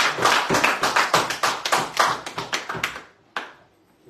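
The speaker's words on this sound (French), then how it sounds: "Allez, non, applaudissez-la." A small group in a radio studio bursts into quick, close applause for a woman, brisk claps lasting about three seconds before fading, with one last stray clap after a short pause.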